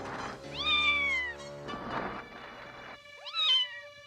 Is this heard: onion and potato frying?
no